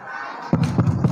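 An audience at a Ramadan welcoming event claps out a rhythmic chant: a few loud, evenly spaced group claps follow a quiet start, with faint crowd murmur underneath.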